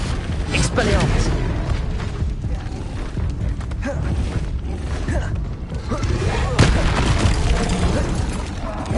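Spell blasts and explosions in the Hogwarts Legacy video game, with dense booming and crackling bursts rolling continuously, while a player shouts spell names over the action.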